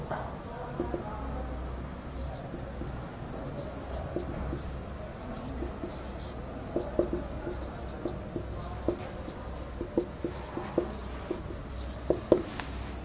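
Pen or pencil scratching steadily across paper during handwriting of exam answers, a continuous soft rasp with small taps and strokes throughout, close up, over a low background hum.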